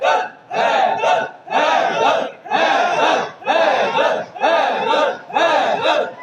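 A large crowd chants a religious slogan in loud unison bursts, about seven rhythmic shouts each separated by a brief pause, filling a gathering hall.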